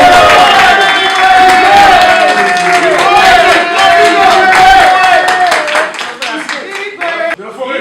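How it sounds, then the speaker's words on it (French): A crowd at a Paris press conference for Werrason claps and cheers loudly, with raised voices and shouts riding over steady applause that fades and breaks up in the final seconds. "Est-ce qu'on peut applaudir?"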